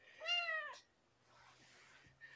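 A young kitten gives one clear, close meow at dinnertime outdoors, followed by faint rustling and quiet background noise.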